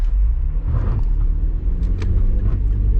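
An overloaded Toyota Prius towing a heavy load pulls away from a standstill, its low engine rumble and road noise droning loud and steady throughout, with no talking.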